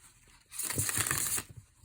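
A deck of tarot cards is shuffled once by hand, a short soft riffling burst up close, with no talking.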